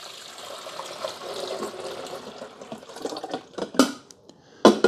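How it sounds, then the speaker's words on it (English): Vinegar or descaling solution poured into the water reservoir of a Braun Pure Flavor 14-cup KF5650 coffee maker, a steady liquid pour and trickle with splashing, followed by a few louder plastic clunks near the end. "you're just going to pour it back here where the water goes."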